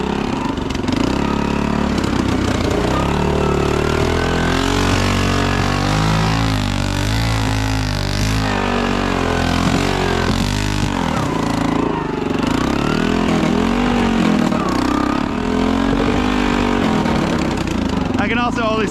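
A Honda ATV climbs in second gear after being dug out. The engine drones loudly and steadily up close, its pitch wavering as it strains, and voices talk over it throughout.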